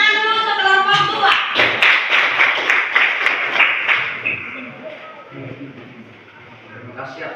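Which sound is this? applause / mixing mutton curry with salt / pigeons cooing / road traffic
applause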